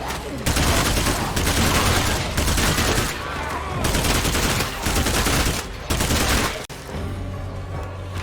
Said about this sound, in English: I just want to go up there and blast them on full auto.